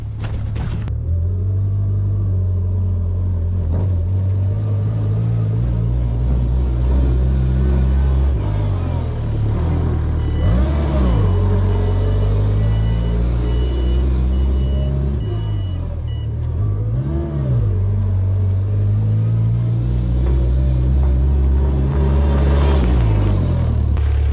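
A Chinese-made wheel loader driving, its diesel engine rumbling loud and close throughout with a steady low drone, a few surges as it accelerates and faint mechanical clatter.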